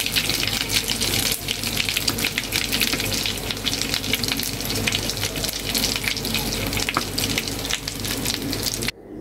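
Potato cheese balls fry in oil, browning on both sides, with a steady, loud, dense sizzle and crackle that runs unbroken for nine seconds.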